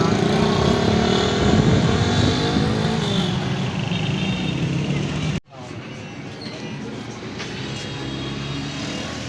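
Motorcycle riding through the busy Gurdwara Bazaar in Jaranwala, a steady engine drone with traffic and street noise, a brief dropout midway, and someone talking over it.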